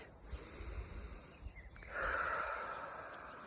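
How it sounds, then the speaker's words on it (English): A slow, deep breath drawn in during a calm solar plexus meditation, rising into a soft, airy inhale in the second half over a quiet, steady background. "Another beautiful deep breath in."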